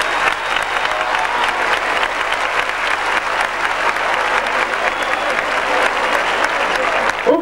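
Loud, sustained crowd applause at a Vinaròs festival of recortes with young bulls, steady dense clapping lasting several seconds and swelling slightly at the end.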